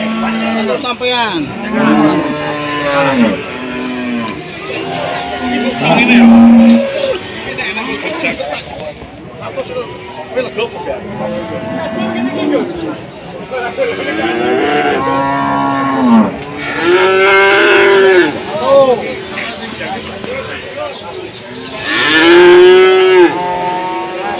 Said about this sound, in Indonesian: Sapi ramai banget teman-teman.